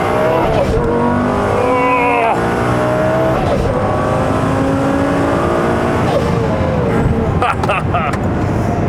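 A loud 2006 Lamborghini Gallardo twin turbo engine revs and pulls hard, its pitch climbing through gear changes, with a brief tire chirp near the end.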